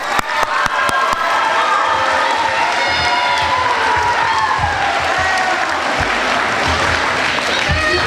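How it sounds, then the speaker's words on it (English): Audience applause and cheering at a Titusville Middle School celebration: a burst of clapping from a sizeable crowd with excited voices and whoops rising over it, continuing strongly throughout. "So give a big round of applause for Sam Rio and Burris Brown."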